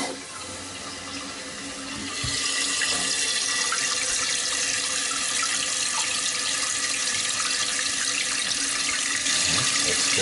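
A toilet tank refills after its supply valve is opened: water starts rushing about two seconds in and keeps up a steady, close hiss and trickle to the end, with no voices.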